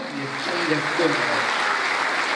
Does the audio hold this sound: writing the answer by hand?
no